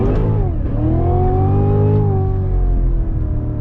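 A Cadillac CTS-V3 fitted with a Corvette Z06 engine pulls hard in first gear, a loud, steady engine roar with a rising pitch that dips briefly and climbs again, close and continuous with no talk.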